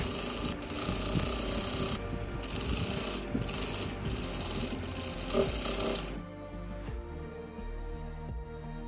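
A sewing machine stitches along the pinned sides of a fabric bag, a steady close mechanical whirr with rapid needle chatter that runs for about six seconds and then stops, leaving a quieter background.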